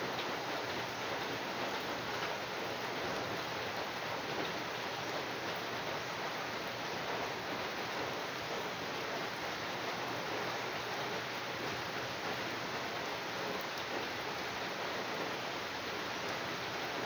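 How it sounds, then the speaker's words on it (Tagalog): Heavy rain falls steadily outdoors, a dense, even hiss that stays loud and unbroken throughout with no voices over it. "Birada pala ng ulan."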